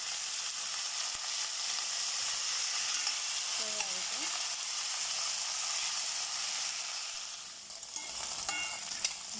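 Carrot, beans and potato fry in hot oil with a continuous close sizzle and occasional scraping stirs, the hiss easing briefly toward the end before resuming.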